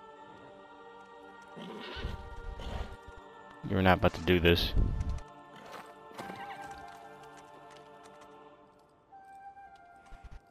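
In Shadow of the Colossus, a horse lets out a loud, close whinny over a soft clip-clop of hooves, with game music tones and people talking around it.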